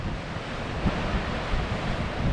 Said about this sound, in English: She's looking a bit choppy. The water's alright, but she's big old washing machine down there today.